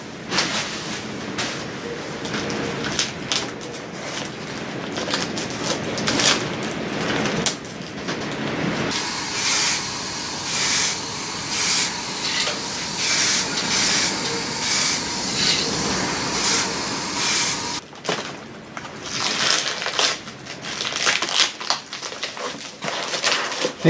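Wintry weather outdoors, a steady broadband rush of wind or heavy rain roaring continuously and close, surging and easing, with a brief lull near the end.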